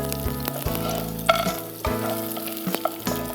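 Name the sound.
almonds and cashews frying with crushed garlic in oil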